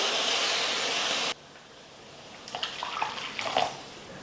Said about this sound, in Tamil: இப்போ இந்த வெள்ளை கரைசலை சேர்த்துக்கிறேன்.